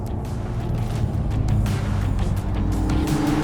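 A McLaren Artura plug-in hybrid supercar laps the Ascari track, its engine a steady, fairly loud rumble with slight pitch shifts and no voices.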